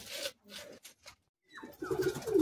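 Madrasi pigeons coo close by, a few short broken calls with gaps, then a louder drawn-out coo rising at the end.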